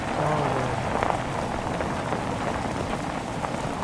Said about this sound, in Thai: เราต้องอยู่ห่างๆพายุไว้นะครับ